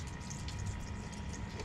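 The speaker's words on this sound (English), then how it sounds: "So now you see there's water squirting up here." Water squirting and spraying onto a spinning HighTech diamond lapping wheel used for grinding cups, a steady close hiss and gush over a low motor drone, with no gaps.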